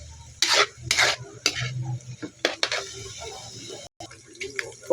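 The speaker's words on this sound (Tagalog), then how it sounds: "haluin natin ng mabuti muna" A spoon stirs Bicol Express in a pan with scraping, clattering bursts of metal against metal over a low sizzle, the strokes uneven and close, with brief pauses between them.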